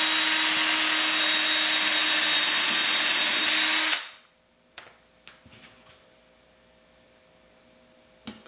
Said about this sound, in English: Now I'll go ahead and drill this guy out.